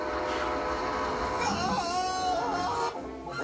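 A cartoon train sound effect: a continuous, fairly loud rumble with wavering whistle-like tones that swoop up and down before cutting off near the end.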